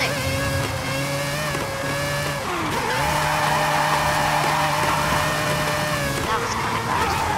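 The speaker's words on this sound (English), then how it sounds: "Oh, drifting!" Engine roar and tire squeal from a car with over 1,000 horsepower drifting in Forza Horizon 5, a steady loud droning rev that holds and shifts in pitch throughout, with a voice speaking over it.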